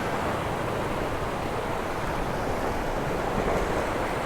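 Ocean waves wash over coastal rocks in a continuous, loud rush of surf and spray, steady hissing water noise with some wind buffeting the microphone and no voices.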